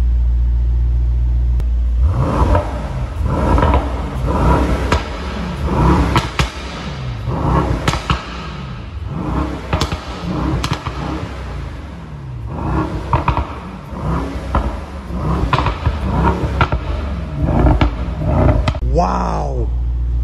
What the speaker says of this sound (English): The sound of Brabus cars is just insane